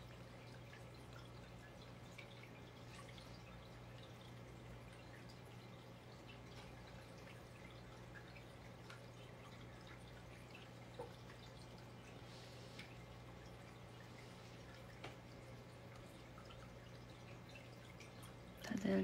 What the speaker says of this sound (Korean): 물소리 정수기